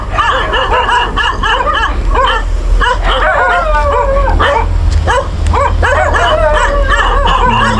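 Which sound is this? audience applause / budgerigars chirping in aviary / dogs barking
dogs barking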